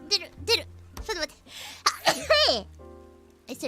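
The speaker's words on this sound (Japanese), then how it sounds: "またもやくしゃみ出る。" A woman sneezes repeatedly in quick bursts, a few close, sharp sneezes with breathy gasps between them, some vocal sounds mixed in, indoors.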